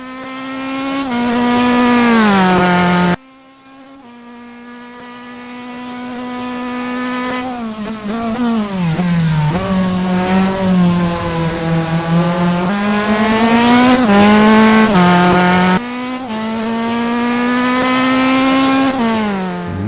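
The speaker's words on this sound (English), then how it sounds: "F317 Formula 3 car." The ASR Dallara F317 Formula 3 car in the rFactor 2 racing game howls at high revs, its engine note rising and falling through repeated gear shifts, with a brief dip as it lifts off, loud and continuous with no talk.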